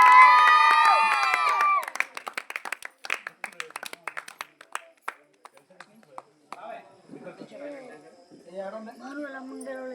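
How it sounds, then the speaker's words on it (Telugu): Audience clapping at a Sankranti celebration stage event in Koyavaripalem as guests are invited up; voices and music open, then a burst of scattered, uneven claps, fading into talk near the end. "అందరికీ క్లాప్స్ కొట్టాలి"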